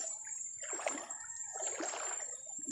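Close splashes and sloshing from deep floodwater in barangay Mamali, two surging bursts over a steady rushing flow, with no voices.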